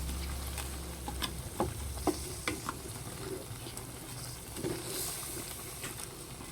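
Squash and shrimp stew stirred in a pan, a soft continuous sizzle with scattered scraping and clinking of the spoon at an irregular pace, close and fairly quiet.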